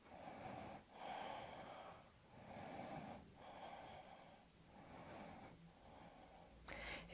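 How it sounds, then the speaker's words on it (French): Slow, deep breathing during a yoga exercise, about five rounds of long, soft inhales and exhales, close and quiet, with a light click at the end. "On vient prendre 5 respirations profondes ici."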